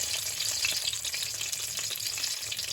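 Green plantain pieces frying in a pan on a stove give a steady, close, even sizzle with fine crackling throughout, with no talking.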